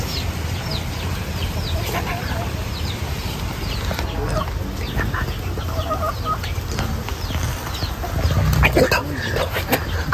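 Native chickens cluck in short, scattered calls over a steady background hum, with a louder rustling burst near the end.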